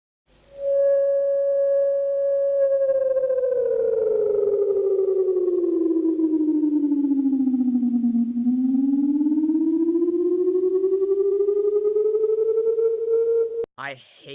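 Emergency Alert System alarm: a loud continuous electronic tone that glides slowly downward then rises back up, steady and alone for over ten seconds, ending with a short burst.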